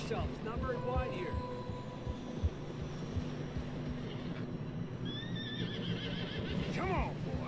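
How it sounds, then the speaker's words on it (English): A horse in deep snow in Red Dead Redemption 2 gives a couple of whinnies, with hoof clops, jingling tack and a steady game soundtrack underneath and speech mixed in. "Horses are struggling."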